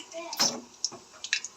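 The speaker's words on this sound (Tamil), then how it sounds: "கடுகு படிக்குது" Mustard seeds crackle in hot oil in a pan, with a few sharp, quick pops and sizzles close by in a short burst.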